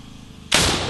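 After a brief quiet moment, a single loud, sharp grenade launcher blast bursts out and its boom carries on for the remainder of the moment, in a Ukrainian military combat setting.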